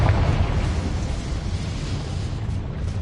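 Fiery blast from the Confringo spell in the video game Hogwarts Legacy, a loud whooshing burst that trails off into a dense, rushing roar lasting a few seconds.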